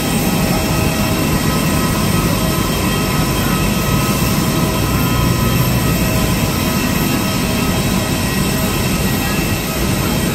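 Steady, loud roar of an AirAsia airliner's jet engines heard from inside the cabin, a broadband drone holding constant throughout with no talking.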